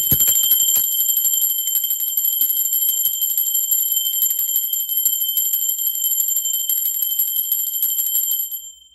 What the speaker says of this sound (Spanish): Conectando con ustedes a través de esta alta frecuencia del sonido de la campana.